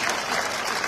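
Concert audience applauding steadily, a dense wash of clapping hands filling the hall for the whole moment without pause.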